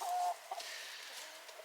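A young hen resembling a Rhode Island Red clucks faintly, giving a short high note and then a few soft clucks over a hissy outdoor background.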